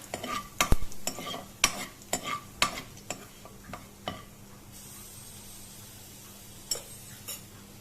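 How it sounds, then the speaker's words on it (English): Cumin seeds sauteing in hot oil in a pan, with a series of sharp stirring scrapes and clinks over a low sizzle, busy at first then thinning to a quiet fry. "We are now going to heat the oil in a pan, and to this I am going to add about 1 teaspoon of jeera. Let's saute this well."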